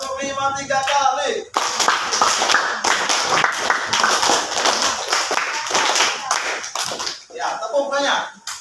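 Rhythmic hand clapping from a class of students in a counting concentration clap game, a long run of crisp, closely spaced claps in patterned groups, bracketed by a teacher's voice at the start and end.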